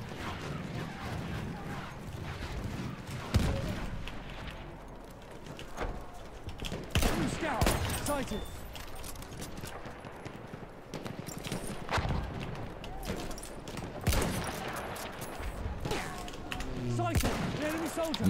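Gunfire from an enemy weapon in the shooter Battlefield 1 comes as loud, sharp bursts of shots, some in quick strings, scattered through dense battle noise, with a voice talking at times.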